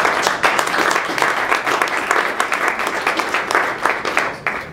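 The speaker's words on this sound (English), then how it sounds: "please give a big round of applause to everybody" A conference audience at a Lean Startup event in Toronto applauds steadily, dense overlapping hand claps sustained at an even loudness for several seconds with no talking.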